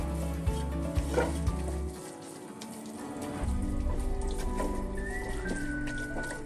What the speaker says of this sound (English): At this point, I'll be adding the caramelized onions just for some extra flavor.